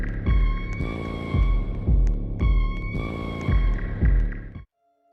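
Eerie maze music from the Roblox Slap Battles video game, with a deep, pulsing throb repeating in a slow heartbeat-like rhythm under sustained droning tones, loud and steady before cutting off abruptly near the end.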